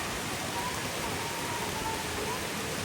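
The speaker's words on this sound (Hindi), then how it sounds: "आज सुबह से ही बाहर मौसम बारिश का बना हुआ है" Steady rain falling outdoors, a continuous even hiss of drops with no breaks, moderately loud and unaccompanied by voices.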